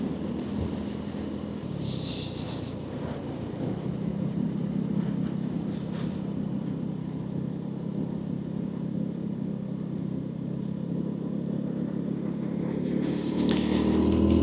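Lexmoto motorcycle, a Cypher or Diablo, riding along a dual carriageway, its engine a steady moderate hum under wind rush that rises toward the end, with a brief passing sound early on.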